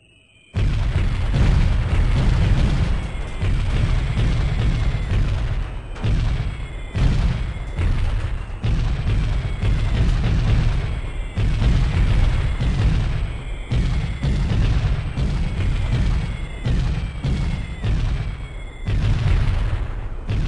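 Artillery fire support in the helicopter game Comanche 3 Gold: a loud, sustained barrage of booming explosions and rumbling bursts, closely spaced, with brief gaps and no voice.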